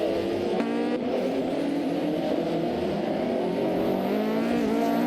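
Racing cars in a video game race, including a Mitsubishi FTO GT and a Ferrari F40, with engines droning and whining steadily at high revs throughout, loud and close with layered pitches as several cars run together.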